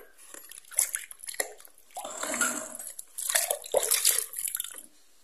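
A scrubbed copper item is rinsed under running water, with uneven splashing and dripping bursts that rise and fall across the clip, fairly close and moderately loud.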